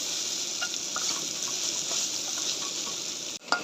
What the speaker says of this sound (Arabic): معانا بقى الرز اهوت هنحطه. نفضل برضه نقلب فيه كده.